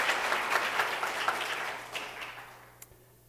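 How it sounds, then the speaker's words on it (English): Audience applause for musicians Laura and Peter after a performance at a Unity spiritual service, moderate clapping that fades toward the end with a final scattered clap. "Let's give them another round of applause."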